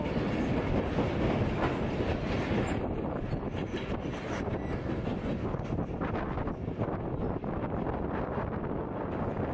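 Steady rumble of a train rolling along rails with rhythmic clatter and some wind buffeting, continuous and fairly loud throughout.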